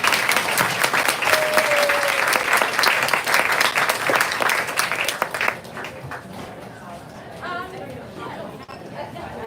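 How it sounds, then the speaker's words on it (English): Audience applause fills a bookstore event, dense and steady for about five seconds before thinning into scattered claps and murmured chatter. "Let's give them one more round of applause"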